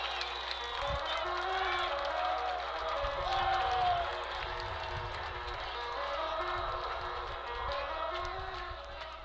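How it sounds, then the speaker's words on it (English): Crowd at a high school baseball playoff game cheering loudly and steadily after an RBI single, a broad roar with whistles and shouts sustained throughout, with voices mixed in. "Crowd is going bananas here."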